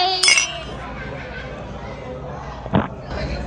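Glasses clink in a toast at a barbecue meal with drinks. Two short, bright clinks sound a couple of seconds apart over low background chatter.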